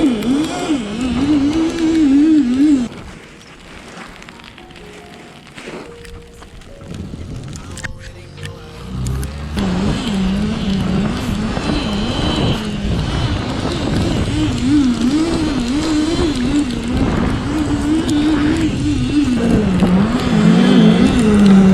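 A snowmobile roars past in a cold, snowy setting, its engine rising and falling loudly over about twenty seconds while people talk over it.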